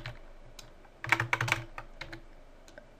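Computer keyboard typing in a Linux terminal, a quiet pause followed by a quick burst of several clattering keystrokes and then a few scattered single taps, close and alone.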